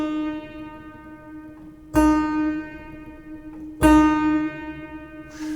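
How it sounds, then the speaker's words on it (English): Two separate clavichord notes are struck a couple of seconds apart. Each has a soft metallic attack from the tangent and a thin sustained string tone that wavers slightly with Bebung vibrato before fading. "So a real Bebung or vibrato looks and sounds like this."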